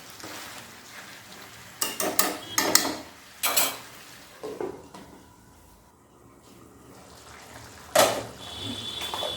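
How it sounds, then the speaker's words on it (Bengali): Jackfruit pieces being sautéed with spices in a pan for a Bengali jackfruit curry, heard as clustered scraping and clattering stirring strokes against the pan with a faint sizzle between them and no voices. "এঁচোড় দিয়ে আমি আবার মশলাগুলো কষাবো, তাহলে মশলা এঁচোড়ের মধ্যে ভালোভাবে ঢুকবে।"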